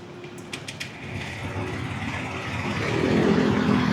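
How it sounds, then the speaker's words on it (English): A Honda Click 125cc scooter engine runs at close range, starting as a low idle hum and rising louder toward the end as it revs, with a few faint clicks early on. "Engine sound, very clean bike."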